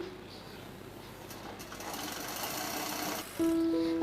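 A sewing machine stitches the waist seam of a baby frock, a close, steady whirring run that grows louder and ends in a strong, sustained humming burst, with no talking.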